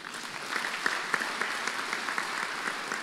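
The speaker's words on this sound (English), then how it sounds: "Thank you for clapping. Thank you for that clap." A church congregation at a lunch hour fellowship claps together, a sustained burst of fairly close applause with a few sharper individual claps, and no speech over it.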